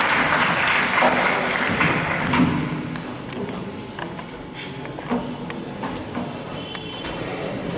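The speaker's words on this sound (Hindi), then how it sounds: "तालियां, जोरदार तालियां" Applause from a crowd, a broad wash of clapping that is loudest at first and then thins to a lower, steadier patter.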